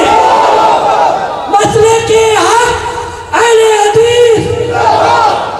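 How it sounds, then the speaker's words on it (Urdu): Large rally crowd roaring a Nara-e-Takbeer response at a Seerat-un-Nabi religious gathering, two loud surges of massed voices with a shouting leader's voice riding over them. "نعرہ تکبیر، نعرہ تکبیر۔"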